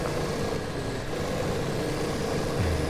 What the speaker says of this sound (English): It's so loud too with that giant engine in the back.